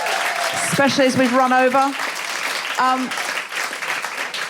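Theatre audience applause at Soho Theatre, a steady wash of clapping running under someone talking over it.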